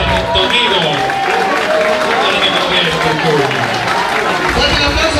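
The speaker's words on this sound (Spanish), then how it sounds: "Fuerte el aplauso para la gente de Jiki" Live audience applause and crowd noise at a stand-up comedy show at Jiki in Tortuguitas, a loud, dense, continuous wash of clapping lasting throughout, with crowd babble mixed in.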